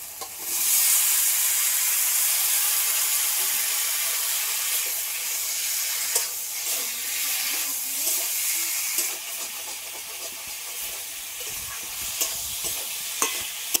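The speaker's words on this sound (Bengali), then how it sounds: "এবার ভেজে রাখা সবজি আর সয়াবিনটাও দিয়ে দেবো।" Fried vegetables and soybean chunks are tossed into sizzling spice paste, a loud steady frying hiss that eases slightly as stirring scrapes and soft clatters come through close by, with no talking.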